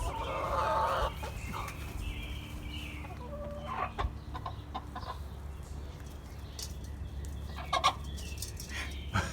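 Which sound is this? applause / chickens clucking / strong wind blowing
chickens clucking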